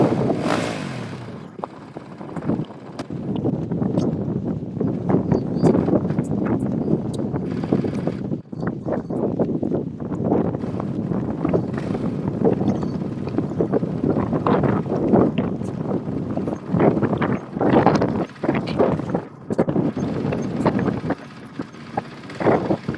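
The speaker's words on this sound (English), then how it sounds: "Wow, it's really windy out there, huh? Yeah, it is really windy." Strong wind roars across open desert dunes in Abu Dhabi, buffeting the microphone in loud, uneven gusts that surge and drop throughout, with no voices.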